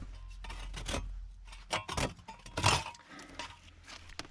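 Several rasping back-and-forth strokes of a hand saw cutting under a floor, uneven in rhythm, fairly close, with scraping pauses between cuts.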